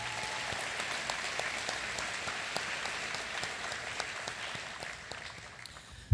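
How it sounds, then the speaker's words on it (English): Audience at the 2025 Sherman Mayor's Economic Development Roundtable applauds its sponsors: a sustained wash of many clapping hands with distinct individual claps popping out, gradually thinning toward the end before a sharp final sound. "join me in a round of applause for our sponsors."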